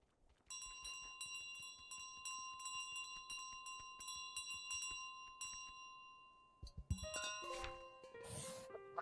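Bells ring in Untitled Goose Game, a quick series of bright, repeated dings at a steady rhythm, faint and clear, ending in a burst of jumbled chimes and clatter.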